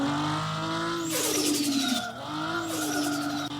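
Car engine revving in the Car For Sale Simulator video game, a steady mechanical drone rising in pitch twice as the car accelerates, with a faint tire screech, loud and close with no voices.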